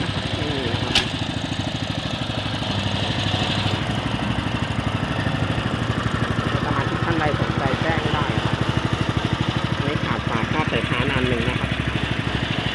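A Honda 5.5 horsepower engine on a turtle-back rotary tiller runs steadily and close by, with a continuous throbbing hum throughout while someone talks over it.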